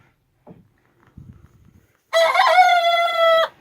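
A rooster crows once, loud and close, a long harmonic call after a few faint scuffles and soft clucks.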